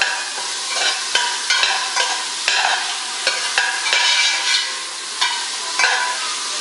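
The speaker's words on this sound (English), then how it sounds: "we're going to fry the bacon until it also gets a golden color" Bacon frying in a pan for Zuppa Toscana, a steady crackling sizzle with intermittent scrapes and stirring clicks, moderately close and alone.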